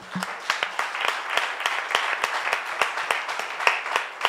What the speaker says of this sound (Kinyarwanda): amashyi menshi ku Yesu